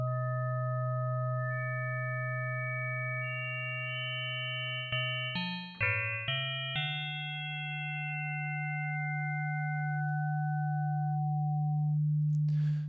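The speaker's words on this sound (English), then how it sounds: "if I were to play a note, I've just got a basic sine wave right now" A basic sine-wave note from Ableton's Wavetable synth hums steadily and alone, with a brief cluster of stepped, chirpy pitch changes midway before the pure tone returns and sustains.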